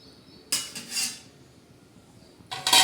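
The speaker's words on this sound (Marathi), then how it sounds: "आपण परत एकदा हलवून घेऊ आणि त्याच्यावर झाकण ठेवू" Sweet jaggery rice being stirred in a pot and covered with a lid, heard as two bursts of close metallic scraping and clatter separated by a quiet pause, with no voices.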